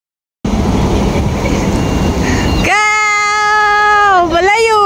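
A train pulls into a station, a steady loud rumble giving way to rising and falling tonal whines as it slows and stops, with people talking nearby.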